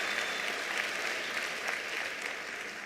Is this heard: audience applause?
yes